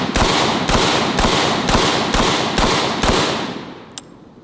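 A Typhoon F12 12 gauge semi-automatic shotgun fires seven loud, evenly spaced shots in quick succession, each a sharp close blast, followed by a single fainter click or clank as the firing stops.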